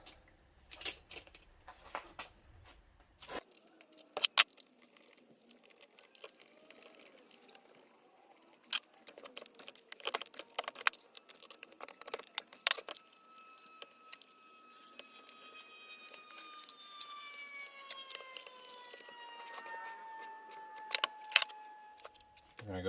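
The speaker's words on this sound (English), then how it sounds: "Now we can go ahead and get the rest of these bolts put in." Bolts being fitted during a Predator 212 small-engine rebuild, with sparse metallic clicks, light jangling and tool taps, and a faint whining tone drifting in partway through.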